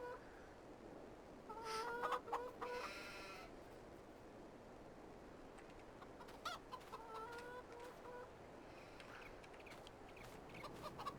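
Chickens in the Farming Simulator 22 game, a flock of about thirty, cluck and squawk in short bursts. The calls are moderately close over a steady low background hum, with no speech.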